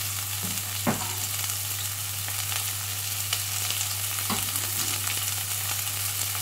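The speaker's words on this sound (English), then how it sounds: "So I'm going to pop those in the pan, let these cook down for about 10 minutes" Vegetables and garlic fry steadily in a pan for a Moroccan-style vegan tagine. A constant close sizzle runs throughout, with a few sharp utensil knocks and a low steady hum underneath.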